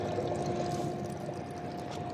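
A weak, slow trickle of free drinking water from a roadside tap, a steady soft pouring wash with a faint hum underneath, continuous and close, with no talk.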